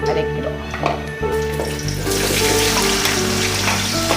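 Onions tipped into a hot pan of oil with whole spices for biryani, a sudden loud sizzle that swells into a steady broad frying hiss and continues strongly to the end.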